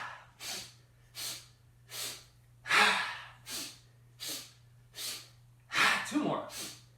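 Rhythmic breathing during a qi gong exercise: eight or nine broad, airy inhales and exhales spaced about a second apart, close and moderately loud over a steady low hum, with no talking.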